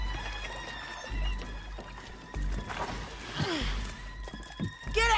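Horses in the Western video game Red Dead Redemption 2 snort and whinny amid faint clopping hooves and game ambience, moderately close, with in-game characters talking over them.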